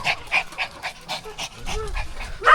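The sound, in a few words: dog panting from thirst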